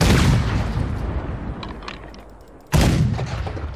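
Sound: cannon firing in Red Dead Redemption 2 video game

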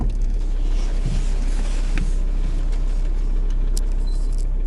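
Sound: Audi A6 car driving

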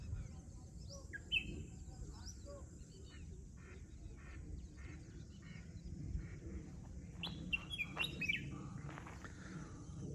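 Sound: birds chirping at Dehrang dam backwater

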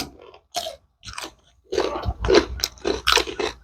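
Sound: eating crispy crab, crunching

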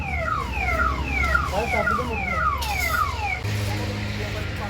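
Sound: ambulance siren

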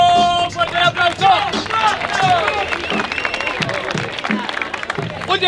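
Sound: audience applause at a rap battle

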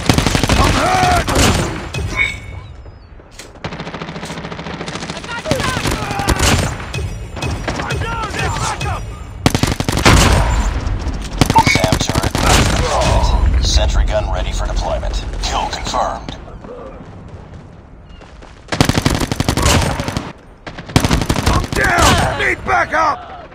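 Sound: gunfire in Call of Duty Mobile video game

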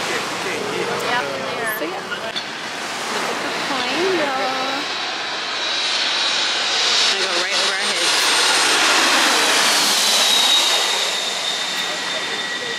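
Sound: airplane flying low over Maho Beach, St. Maarten

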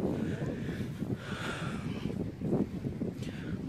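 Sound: wind at the Baltic seashore

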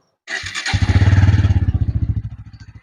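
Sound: Bajaj Pulsar N160 motorcycle engine starting

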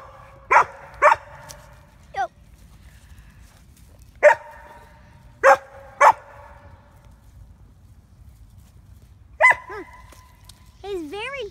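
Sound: dogs barking

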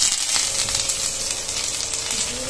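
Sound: sizzle of adding tempering oil with curry leaves, dried chilli and cumin to kadhi

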